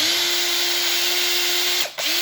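A Makita DHP458 two-speed brushed cordless drill whirs loudly at a steady high pitch, briefly dropping off and spinning back up near the end.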